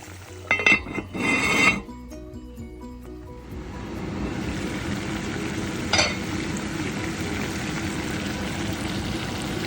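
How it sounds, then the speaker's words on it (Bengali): Coated chicken fries in a pan with a steady, even sizzle. A couple of brief clinks of a utensil against the pan come just before the frying, and another sharp knock follows midway. "দেখলেন তো আমার চিকেনগুলো কি সুন্দর করে ভাজা হচ্ছে।"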